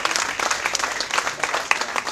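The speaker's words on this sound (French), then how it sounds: "Je vous demande d'applaudir Dr Massamba Diop" Audience at an evening gala applauds a guest doctor, dense continuous clapping from a crowd, fairly close and lively, with no talk over it.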